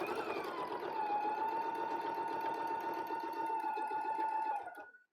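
A sewing machine stitches a seam line on fabric with a steady, close, continuous whirring hum that runs for several seconds, then winds down and stops.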